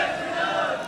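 A large crowd at a tense street gathering chants Jai Shri Ram slogans, a dense, loud, continuous roar of many voices filling the short stretch.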